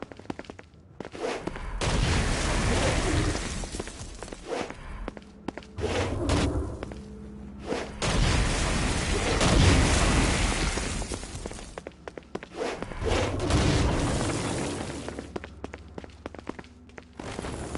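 Explosions and gunfire in the Saints Row Gat Out of Hell video game, a dense chaotic run of booming blasts, rapid shots, thuds and whooshes in repeated loud waves with brief lulls between them.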